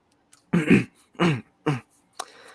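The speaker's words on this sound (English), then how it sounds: "I kept having to clear my throat" A man clears his throat several times in close succession, three or four short rough bursts with brief gaps between, close and fairly loud, with a small trailing sound at the end.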